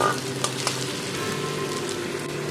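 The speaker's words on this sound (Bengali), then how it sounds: "পেঁয়াজটাকে আমি সুন্দর করে ভেজে নিয়েছি।" Onions sizzling in a pan, already fried to a light brown, for a spicy Bengali fish curry; a steady, close crackling hiss runs throughout with a couple of faint clinks, and no one speaks.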